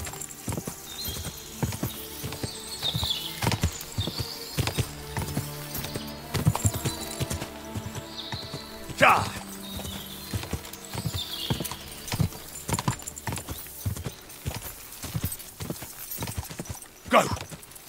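Hooves gallop in a steady, rhythmic clip-clop in Kingdom Come: Deliverance 2, going on throughout, with an occasional louder thump and a brief whinny-like burst.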